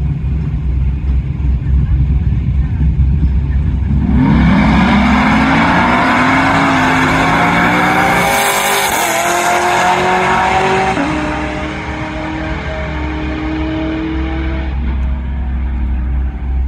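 A Ghostbusters-themed wagon race car roars down the strip at the Cadillac Attack drag event, a loud, sustained engine blast with tire squeal that swells, peaks and then eases as it passes.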